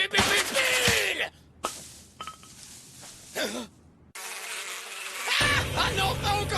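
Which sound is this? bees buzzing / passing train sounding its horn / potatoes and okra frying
bees buzzing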